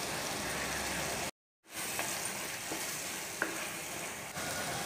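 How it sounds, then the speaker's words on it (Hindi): Onion-tomato masala with turmeric sizzles in a pan, a steady close frying hiss broken by one brief silent cut and a few soft stirring clicks. "मसाला हमारा फ्राई हो रहा है अभी"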